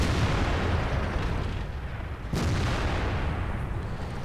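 A single sharp cannon blast from the Waffentrager E100 tank destroyer in World of Tanks cuts through a constant loud rumble of engine and battle noise.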